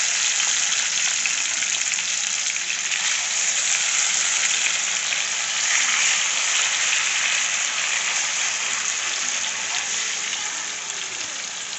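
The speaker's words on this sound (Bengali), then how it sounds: "আস্তে আস্তে মাছগুলো, ম্যারিনেট করা মাছগুলো ছেড়ে দিচ্ছি" Marinated hilsa fish pieces sizzle steadily in hot oil with cumin and green chillies in a pan, a continuous close, loud frying hiss without breaks.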